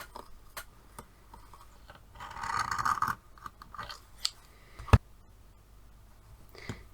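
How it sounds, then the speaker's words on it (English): Scissors cutting quilting fabric for a kawandi quilt, a soft close snipping and rustling with one brief denser stretch of cutting and a few sharp clicks, fairly quiet and without talk. "what I will end up doing is cutting in like this"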